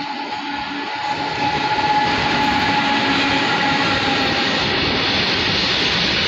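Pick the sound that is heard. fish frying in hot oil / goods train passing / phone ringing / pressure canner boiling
goods train passing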